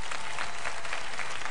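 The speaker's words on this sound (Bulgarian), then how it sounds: "Аплодисменти за тях!" Dense, steady applause from a television studio audience, greeting three women introduced on a Bulgarian entertainment show; the clapping is a continuous wash of many hands and stays loud throughout.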